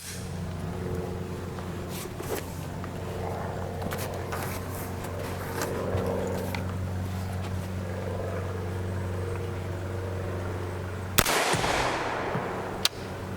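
A single sharp, loud report from a CMMG MK57 8-inch rifle in 5.7x28mm firing 57gr copper hollow points cracks near the end, over a steady low background hum.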